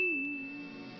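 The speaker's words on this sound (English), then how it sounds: "When did the inside of his throat become a bell?" A cartoon bell ding rings in a Tom and Jerry episode: a single bright, sustained metallic tone that holds steady with a lower wavering note beneath it, decaying gently over about a second.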